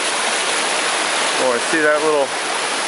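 A river at Zealand Falls rushes loudly after heavy rain, a dense, constant roar of swollen water close by, while a person speaks briefly over it.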